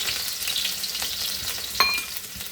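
Ginger sizzles in hot oil in a pan during home cooking of a fish dish: a steady, close, hissing fry with one brief metallic clink partway through.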